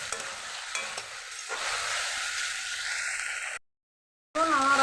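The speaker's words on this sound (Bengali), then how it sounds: "আলুটা দিয়ে দিয়ে এবার একটু নেড়ে চেড়ে নেব।" Potatoes are stirred into cooking masala in a pan, a spoon scraping over a steady frying sizzle. A brief silent gap follows, then the stirring and sizzling resume.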